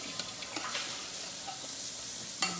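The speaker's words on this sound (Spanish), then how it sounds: "Voy a echar las habichuelas que quedaron de ayer aquí en la ollita" Leftover beans with fresh sofrito hit a hot pot with oil, giving a brief close sizzle and stirring noise and a sharp clunk at the end, with no voices.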